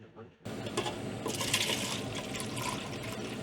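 Pre-mixed antifreeze pours into a boat engine as a steady, continuous gush that starts abruptly and keeps flowing close to the listener, with a faint voice at the very start.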